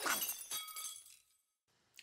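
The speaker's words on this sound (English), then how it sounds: "The sound of glass breaking." Glass shatters in a visual novel game scene, a sharp crash followed by scattering tinkling fragments that fade, with a faint final clink, heard quietly and alone.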